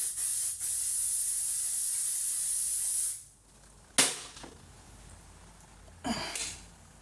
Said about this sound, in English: We're going to spray it again